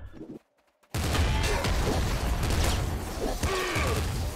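Gunfire in the video game Nuclear Throne bursts in after a brief silence as a dense, crackling barrage of shots and impacts that carries on loudly to the end.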